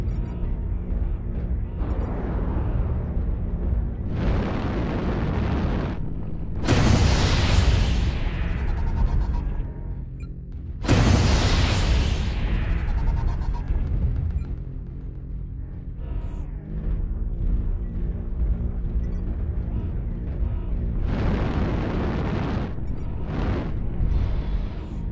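Airstrike explosions in the video game Mechwarrior Online, several loud deep booms and rumbling blasts with bursts of crackling debris, overlapping a constant low mechanical drone and rumble of battle.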